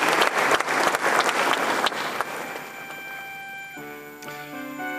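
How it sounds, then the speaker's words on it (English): An audience at an honorific lecture hall in Ghana gives a burst of applause that starts strong, then thins out and fades over a few seconds, while a tonal musical chime rises near the end. "Shall we do a big round of applause for him?"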